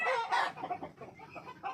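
Chickens cluck softly nearby in short, faint bursts, with a rooster among the flock on a windy autumn day.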